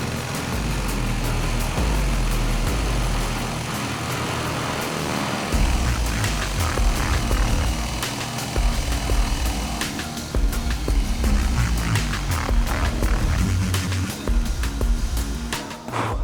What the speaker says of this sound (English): I'm going to use a spade bit in the drill press.